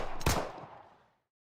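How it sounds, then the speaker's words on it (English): A single sharp gunshot in the video game NIKKE cracks out, followed by a short decaying echo that fades within a second; no talking. "gunshots ring out."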